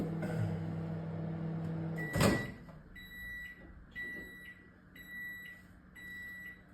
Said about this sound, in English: we're going to pop that back in the microwave for another minute